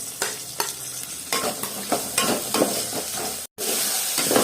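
Onion, carrot and potato for vegetable uppittu stir-fried in a pan, a steady sizzle broken by repeated spatula scrapes at an uneven pace, with one brief cutout near the end.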